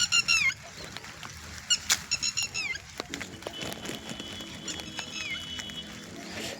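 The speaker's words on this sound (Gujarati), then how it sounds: "આ પક્ષી કેવું બોલ્યું કોઈક અલગ અવાજ કાઢ્યો" An unusual honking bird call rings out in a few short, bright bursts near the start, then fades into a busy outdoor village background with scattered patter.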